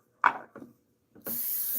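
Short spray bursts hit a tray while making puppy treats, two brief puffs followed by a longer, steady hissing spray, close and quiet.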